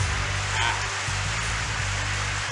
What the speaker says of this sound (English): The endlessly pouring rain